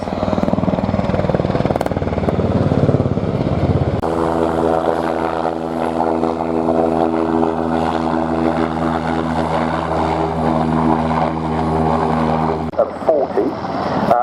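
Military aircraft turn and reverse during an air show flypast, giving a loud, sustained engine drone with a steady tonal hum that swells and then fades, while a commentator talks throughout.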